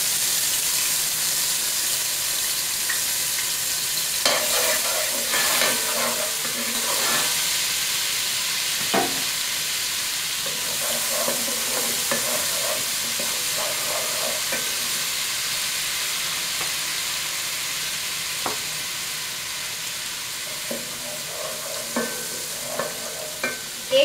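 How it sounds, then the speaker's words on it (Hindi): Ginger garlic paste sizzles and fries steadily in a pan while making chicken Manchurian, a continuous hiss broken by repeated bursts of stirring and scraping with a utensil, with no voices. "इसी पैन में आपने ये जिंजर गार्लिक पेस्ट ऐड कर देना है।"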